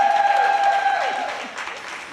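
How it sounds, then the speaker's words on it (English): Applause for women panelists on a business stage, a soft, diffuse wash of clapping from the audience running under sustained tonal music for about two seconds. "Please give these ladies another round of applause."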